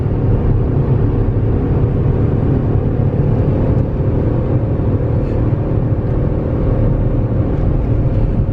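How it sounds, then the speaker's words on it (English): A V8 Volkswagen Touareg accelerating uphill while towing, heard as a loud, steady low engine drone and road rumble that holds constant, without any talking. "Okay, we're accelerating now."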